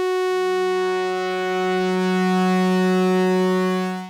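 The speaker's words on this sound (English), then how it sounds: "So just changing the wave shape a bit." A Yamaha MODX M synthesizer holds one sustained tone while its oscillator wave shape is altered, the timbre shifting slowly over four seconds, played alone and loud.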